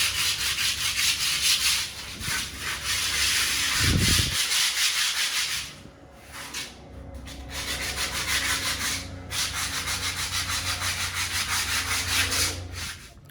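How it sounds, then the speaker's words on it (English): Steady abrasive rubbing of sanding against the fiberglass surface of a pond, continuous and close, with a short pause in the middle before it resumes. "He's still sanding the main pond down"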